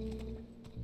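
Horse hooves clip-clop in The Last of Us video game, a brief run of soft hoofbeats in a mountain setting under a low steady hum of game ambience.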